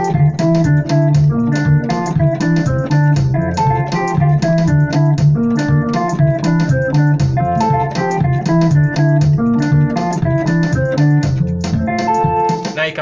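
Piano plays a makossa groove with a bass line in the left hand, steady and rhythmic, with repeated chord stabs over a bouncing low bass line, close and evenly loud throughout, no talking.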